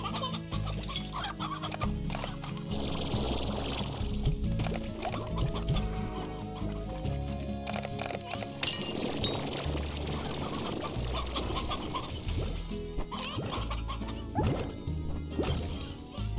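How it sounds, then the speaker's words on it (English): Hens cluck in a ranch-building video game, their calls scattered through a dense, steady bed of game music and ambient sound with a few sharper knocks, no talking over them. "Okay, I need to grab some of these hens."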